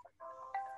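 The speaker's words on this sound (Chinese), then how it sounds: "边个个电话响？" A mobile phone ringtone goes off in a room, a short, faint melodic electronic tone that rises after a brief pause.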